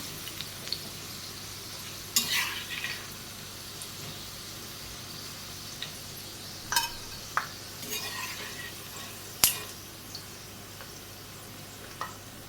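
Okra (ladies finger) fries in oil with a steady soft sizzle while a utensil stirs it, giving occasional clinks and scrapes against the pan, close and without talk.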